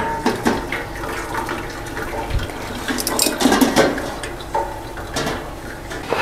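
Water is poured off steamed enoki mushrooms in a kitchen, a close, splashy trickle and gush with light clatter from the pot, uneven and brief.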